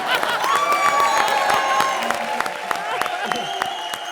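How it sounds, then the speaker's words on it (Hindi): A studio audience on the Hindi TV show Comedy Circus bursts into applause with cheers and whoops, a lively mix of clapping and crowd shouts, close and fairly loud, with voices and other sound running beneath it. "तालियां"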